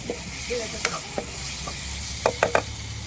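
Potato curry with dried coriander is stir-fried in a pan: a steady soft sizzle runs underneath, broken by several sharp scraping stir strokes clustered near the end, close and fairly quiet.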